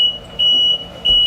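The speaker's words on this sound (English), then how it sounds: "The smoke alarm is going to wake her up." Smoke alarm beeping in loud, sustained high-pitched tones, three long beeps separated by short gaps, close and alone without talk.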